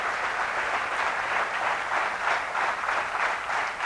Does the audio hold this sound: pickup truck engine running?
no